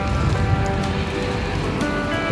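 Light rain falling steadily near flowering roadside plants, a soft continuous patter close by with no voices over it.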